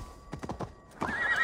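A horse in the video game Assassin's Creed Valhalla gives a short run of clip-clopping hoofbeats and then a bright, quavering whinny, close and clear, with no talk.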